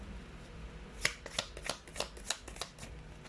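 Tarot cards are shuffled up close: a quick run of crisp riffling slaps and flutters, with about a dozen rapid bursts in a row.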